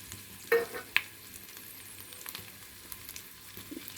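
Ground paste of ginger, cumin, garlic and mustard with chillies drops into a hot pan, two sharp spits followed by a quieter, steady sizzle close by.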